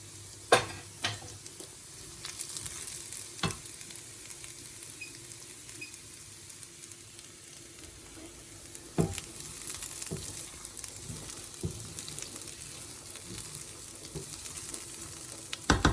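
Sprouted seeds cook in a pan with a steady low sizzle and frying crackle, broken by occasional sharp clicks and scrapes of stirring, with no voices.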